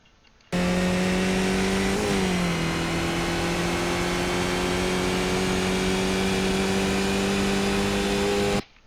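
A Skip Barber race car in iRacing at Zandvoort accelerates with a loud, steady engine drone that rises in pitch, briefly dips as a gear shifts, then climbs again, filling the clip without any talk.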